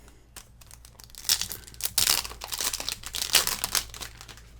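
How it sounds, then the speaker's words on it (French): Yu-Gi-Oh booster pack wrappers being torn open and crumpled, bursts of crinkly plastic crackle and tearing at close range, irregular and fairly quiet, with no voices. "Ça fait bizarre d'ouvrir autant de boosters"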